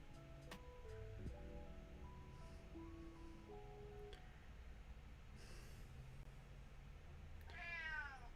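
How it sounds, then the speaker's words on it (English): A house cat gives a faint meow near the end, a short rising-and-falling call after a stretch of quiet room tone with soft tonal sounds and rustling. "Was that a cute meow?"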